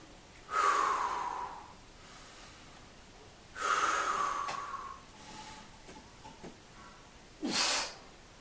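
Two deep, loud breaths drawn in close before a deadlift shrug, each a long airy rush, followed by a sharper short breath near the end; no talking.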